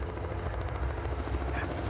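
A helicopter passes overhead, its rotor chop a loud, steady thudding drone that stays close and strong throughout with no voices.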